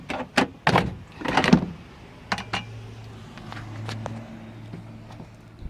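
Plastic interior trim panel clips on a Mitsubishi Endeavor pop loose under a prying tool, several sharp close snaps and clacks in quick succession followed by quieter handling and a low hum.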